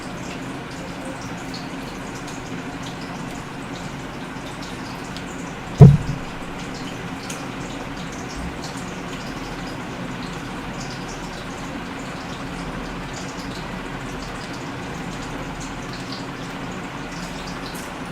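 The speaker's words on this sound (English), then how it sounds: "So we're frying these guys up." A faint, steady crackling sizzle of meatballs frying in a pan, with one soft thump partway through.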